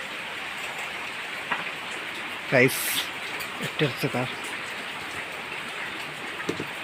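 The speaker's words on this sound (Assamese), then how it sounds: "বৰষুণ সেই চাওঁ বৰষুণ দি আছে" Steady rain keeps a constant hiss throughout on the first day of Ramadan, while people talk over it in short bursts.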